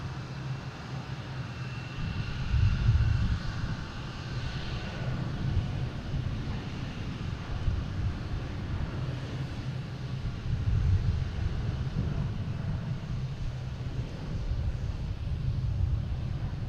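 An Etihad airliner taking off from Boston Logan, with a deep sustained jet engine roar and low rumbling surges, steady and strong, no talk.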